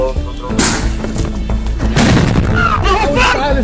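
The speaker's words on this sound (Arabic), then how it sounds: "القنابل الصوت عم ترمى وين ما كان على الأرض" Stun grenades bursting inside a mosque prayer hall at Al-Aqsa during prayer, a loud dense crowd scene with repeated booms and bangs amid shouting voices throughout.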